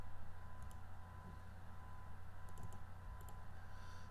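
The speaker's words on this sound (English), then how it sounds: "and I type my private key." Someone types on a computer keyboard at a steady, quiet pace, with soft key clicks coming in short bursts over a constant low hum.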